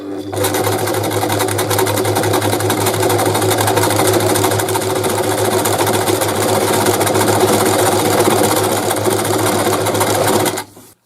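Brother Boutique 30 sewing machine stitching a slant overlock along a fabric edge, a loud, steady whirring motor hum with rapid needle clatter running for about ten seconds before stopping.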